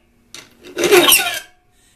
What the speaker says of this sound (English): Watch when you're filing.